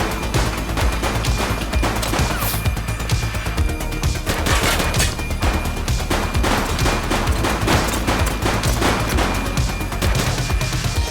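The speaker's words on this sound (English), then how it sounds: "He's shooting!" Sustained, dense gunfire in The Precinct police video game, rapid overlapping shots and bursts rattling continuously at steady loudness for the whole stretch, with no pauses.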